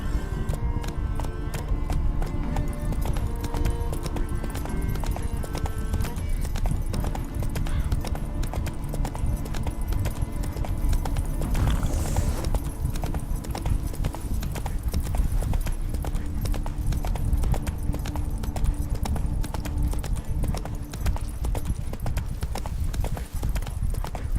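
Roach the horse gallops in The Witcher game, a fast, steady clip-clop of hooves pounding close by in a continuous driving rhythm, with a brief whoosh midway and a faint voice under it.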